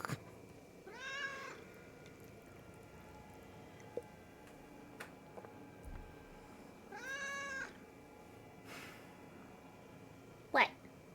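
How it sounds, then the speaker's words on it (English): A cat meows from a television speaker, a few drawn-out mews spaced several seconds apart, faint and somewhat distant in a quiet room with occasional small ticks and knocks. "surprised that Ruby's not all bothered by the cat noises coming from the TV"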